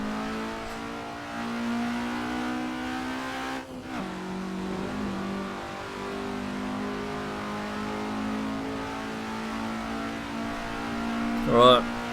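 A racing car in stock setup on the Thruxton circuit pulls hard in third gear, its engine note droning loud and steady with a brief dip before climbing again, and a sharp squeal near the end.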